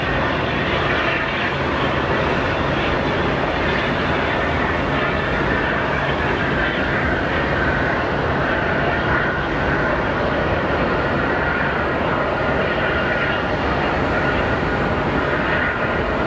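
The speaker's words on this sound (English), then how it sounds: "A350 coming in." An Airbus A350 airliner comes in to land at Sky Harbor Airport, a loud, continuous broadband engine roar that holds steady throughout with no talking.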